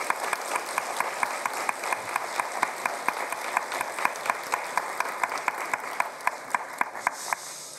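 Applause for members of the Liberation Association at the Gyeonggi Province Liberation Day ceremony, a broad hall of clapping that settles into a fairly rhythmic, unified beat and continues steadily before fading at the end.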